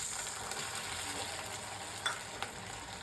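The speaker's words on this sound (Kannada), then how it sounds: "ಈ ಬೆಲ್ಲಕ್ಕೆ ನೋಡಿಕೊಂಡು ಸ್ವಲ್ಪ ನೀರು ಹಾಕೊಳ್ಳೋಣ" Jaggery and water heat in a frying pan, giving a steady soft sizzle and bubbling hiss with a couple of faint clicks from the pan, close and even throughout.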